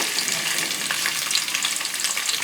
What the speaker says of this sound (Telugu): నూనె వేడెక్కిన తర్వాత కట్ చేసి పెట్టుకున్న ఉల్లిపాయలు వేసుకుందాం.